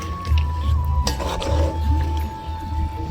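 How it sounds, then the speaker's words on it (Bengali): Potatoes frying for biryani are stirred in a pan, with metal scraping and clinking over a steady sizzle, close and clear, no voices. "নাড়িয়ে আলুটাকে তুলে নেব।"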